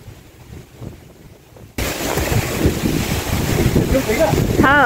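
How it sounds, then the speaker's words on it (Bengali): Cold wind gusts through trees ahead of rain, a loud rushing roar buffeting the microphone that jumps up suddenly and keeps blowing hard, with some voices faintly underneath. "দেখেন গাছের কি অবস্থা, বাতাসে ঠান্ডা হয়ে গেছে বাতাস"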